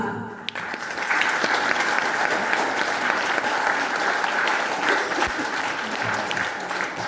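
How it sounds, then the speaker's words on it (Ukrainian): An audience at a village choir's twentieth-anniversary concert for Agriculture Day claps loudly and steadily, a thick wash of many hands that begins after a brief pause and carries on evenly, with a few faint voices underneath. "Ці оплески для вас."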